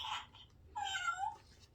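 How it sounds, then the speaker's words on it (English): A toy cat meows from a button on a farm-animal sound book, two short electronic meows with a brief gap, clear and close with no talk over them. "What does cat do? Yeah, meow."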